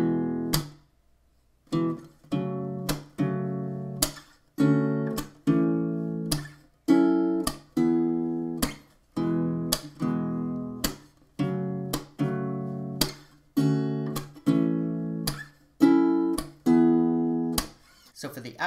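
Acoustic guitar strums the outro chords of a song in a steady rhythm of clear, ringing strokes with short decays, played alone and close without any voice.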